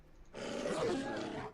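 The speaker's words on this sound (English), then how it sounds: "Now you're running into the fucking wolves and bears." Wolves and bears growl in the Neverwinter Nights Enhanced Edition video game. A single loud, rough roar swells and holds for about a second while a player speaks briefly.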